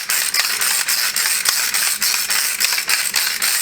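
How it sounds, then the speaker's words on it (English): Ratchet pepper grinder from Sur La Table cracking black peppercorns: a steady run of close, dry clicking ratchet strokes with rhythmic gritty crunching, loud and alone. "I'm going to put some fresh cracked black pepper in it with my ratchet grinder from Sur La Table"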